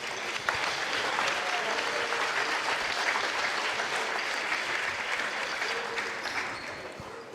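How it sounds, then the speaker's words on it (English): Sustained applause from a crowd in a high school gym on basketball senior night, honoring seniors and their parents; steady, loud clapping that fills the whole stretch with a faint voice briefly near the start. "Please give a big round of applause for our seniors and their parents"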